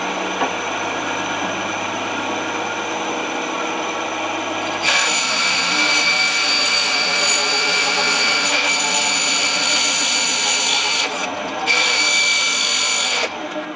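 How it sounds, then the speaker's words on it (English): A bandsaw cuts through a block of knife handle material. Its motor first runs with a low hum, then a loud, steady high-pitched cutting whine carries on for several seconds with brief dips before it ends. "I'm going to go ahead and cut this out on the bandsaw"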